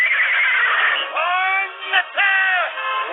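A horse neighs loudly and close by in a long, wavering whinny, followed by a second shorter whinny after a brief break, with no talking over it.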